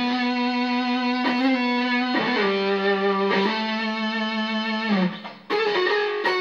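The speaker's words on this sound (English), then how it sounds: "bread and butter distorted sound" Lower-gain fuzz pedal driving an electric guitar into a smooth, garagey distortion with long sustain, several held chords ringing out loud and alone, changing every second or two before a brief cutoff near the end.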